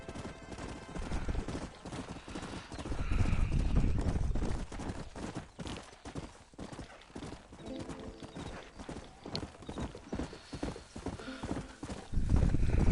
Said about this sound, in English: I'm pretty sure this is a white stallion